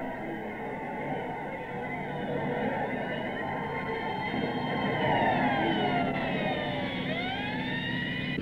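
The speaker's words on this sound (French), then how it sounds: "Et ces sirènes, je les entends tout le temps." Police sirens wail through a US city street, rising and falling in long sweeping tones over a steady traffic rumble, with a second siren gliding in near the end.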